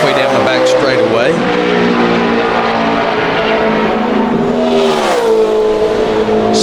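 A NASCAR Sprint Cup race car, the number 64, on a qualifying lap at Charlotte Motor Speedway in 2010, its loud engine holding a high drone and shifting pitch as it passes, with commentary running over it.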